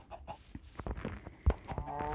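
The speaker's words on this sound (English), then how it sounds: "Got my chickens." Minecraft chickens cluck softly in short, scattered bursts on a flat-land farm in the video game, with quiet game sounds between the calls.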